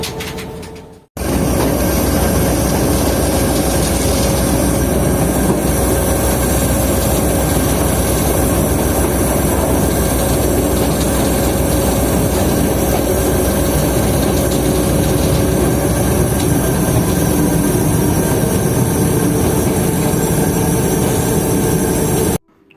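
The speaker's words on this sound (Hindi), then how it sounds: "इस वक्त हमारी 214 डाउन मोहिंजोदड़ो एक्सप्रेस निकल रही है हबीबकोट जंक्शन रेलवे स्टेशन पर" The 214 Down Mohenjo-daro Express pulls out of Habib Kot Junction, a loud, close, continuous roar of rolling wagons and clattering wheels with faint squeals that holds steady for about twenty seconds.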